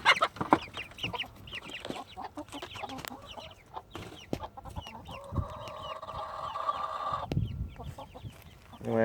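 Chickens in a flock cluck and chatter nearby while some peck at newly introduced chicks, with short overlapping calls and a longer sustained squawk in the middle.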